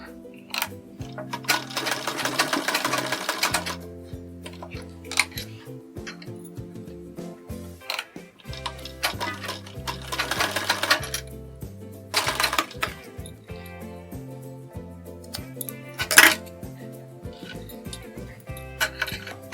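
A sewing machine stitching a model sleeve runs in steady rhythmic bursts with short pauses between, close and clear, with light handling clicks and no talk.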